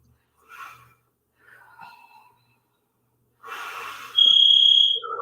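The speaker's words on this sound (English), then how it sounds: "Whoop, timer's on." A workout timer gives one sustained high electronic beep near the end, after a few soft breaths and rustles in a quiet room.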